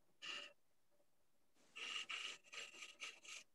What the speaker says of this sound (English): if you wanted just to flatten it out a little bit, use a skew as a scraper